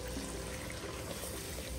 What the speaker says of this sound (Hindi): साथ साथ 1 घूंट पानी को मैं डाल दूंगी